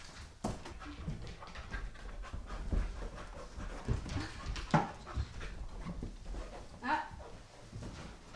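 A bed bug detection dog sniffs along a sofa, panting quickly and snuffling close by in uneven bursts, with soft whimpers and quiet talk from people nearby.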